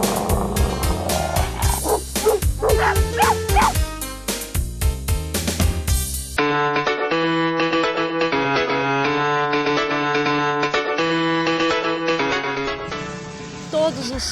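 Small chihuahua dogs bark with sharp, rapid yaps mixed into loud background music that switches to a steady synth melody partway through; no one speaks.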